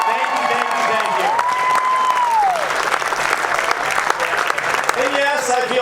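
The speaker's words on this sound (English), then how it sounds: "Let's give a big round of applause." Wedding guests applaud steadily throughout at a marriage celebration, with a dense wash of clapping and a voice speaking over parts of it.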